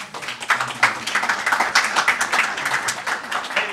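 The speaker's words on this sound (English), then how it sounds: "let's give them a big round of applause" A crowd claps in a dense, steady patter of applause that holds evenly throughout, with no voices rising above it.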